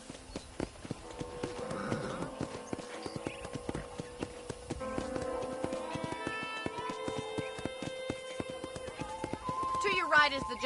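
Horse hooves clip-clop steadily in the Red Dead Redemption video game while riding around a ranch, a regular trotting rhythm running throughout beneath a voice talking and light background music.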